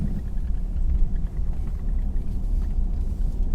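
Steady low rumble inside a car driving around late at night in the Maitland area, a continuous engine and road drone filling the cabin with no voices.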